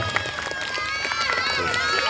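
A crowd at a Ramadan quiz contest claps briskly, many hands in a dense, lively patter close by, with voices talking and cheering over it.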